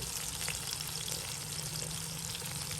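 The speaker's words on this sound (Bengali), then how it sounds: "তাহলে দেখবেন সুন্দর আপনার মাছ ভাজা রান্না হয়ে গেছে" Pangas fish, raised in a home pond, frying in oil: a steady, dense sizzle that crackles continuously throughout, close and fairly loud, with no voices.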